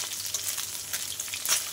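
Tangra fish sizzle quietly in hot oil in a pan, a soft crackling hiss with small bursts of spitting and a brief stir, close up with no talking.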